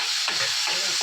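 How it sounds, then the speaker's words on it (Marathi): Onion and tomato sautéing in a pan for a prawn masala, a steady close sizzle with soft stirring swishes repeating every fraction of a second. "टॅमॅटो पण थोडा जरा नरम होईपर्यंत परतायचा।"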